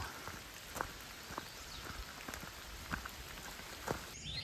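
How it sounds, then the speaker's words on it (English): Rain falling at the start of a storm on the road to Woods Hole, a steady quiet patter with scattered sharper drops hitting a nearby surface, no talking. "That's right when the rain starts."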